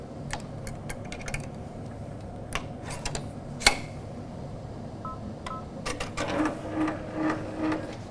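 A Brother PR-series embroidery machine stitches an outline on hooped fabric, giving quiet rapid ticking and clicking needle strikes in irregular bursts with soft mechanical hum underneath.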